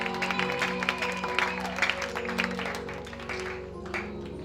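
A church congregation claps in unison, a close crowd of hands beating a quick steady rhythm over sustained voices and instrumental tones.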